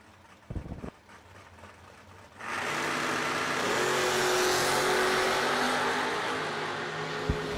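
Drag race cars launching down the strip, a sudden loud engine roar that swells and holds for several seconds after a few faint knocks in the quiet lead-in.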